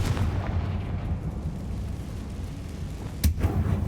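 A Confringo fire-blast spell bursts in Hogwarts Legacy while fighting goblins, a single sharp explosive crack late in the moment above a steady rumbling bed of game battle noise.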